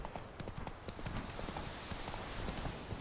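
Galloping hooves of the horse Roach in The Witcher 3, dense rapid clip-clop beats running continuously over ambient game background, fairly close and steady.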